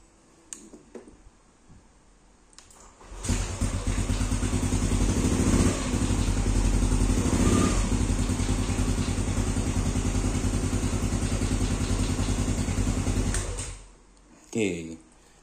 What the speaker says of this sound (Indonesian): Oke, motornya hidup ya.